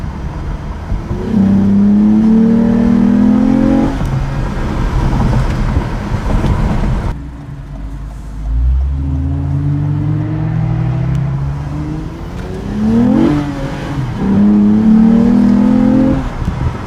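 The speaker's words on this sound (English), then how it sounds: "They made a good sounding intake." 2020 Toyota Camry fitted with an Injen cold air intake revving hard: several loud climbing engine sweeps with intake growl, a sudden drop and lift-off near the middle, then more rising revs, with no talk.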